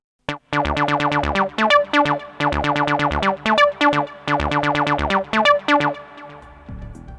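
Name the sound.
acid bass line on a Korg Volca Bass synth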